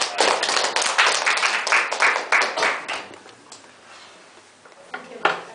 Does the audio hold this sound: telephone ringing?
no